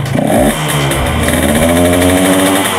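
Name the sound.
Yamaha RX King motorcycle engine revving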